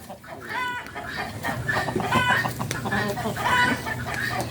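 Several chickens cluck busily and continuously nearby, overlapping calls forming a lively farmyard chatter.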